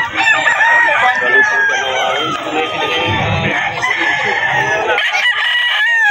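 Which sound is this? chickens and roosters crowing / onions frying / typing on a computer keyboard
chickens and roosters crowing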